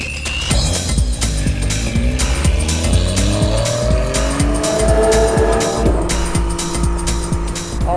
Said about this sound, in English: so we are in the Porsche Cayman GT4